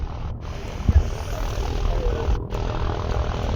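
Over an airfield, a propeller aircraft drones steadily at a moderate distance under rumbling wind noise, with no speech.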